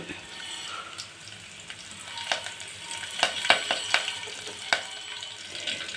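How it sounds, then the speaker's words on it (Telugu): Quiet sizzling of oil with a few sharp crackles and pops in the middle as curry leaves, a pinch of asafoetida and coriander splutter in a hot pan. "చిటికెడు ఇంగువ కొంచెం కొత్తిమీర వేసి తలపేస్తున్నాను"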